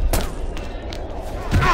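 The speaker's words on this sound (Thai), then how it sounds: "ระเบิดครับ" An explosion bursts in the shooting video game XSHOT, a loud boom followed by another blast and rumbling gunfire-like noise in a busy match.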